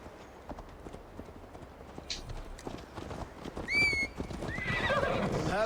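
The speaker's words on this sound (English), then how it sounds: "Mount up, Eivor. It's a long ride to Tamworth." Horse hooves clip-clop steadily in Assassin's Creed Valhalla, with a horse whinny rising near the end over a busy game soundscape of ambient noise.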